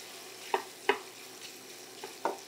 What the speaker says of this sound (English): we're going to stir the sausage around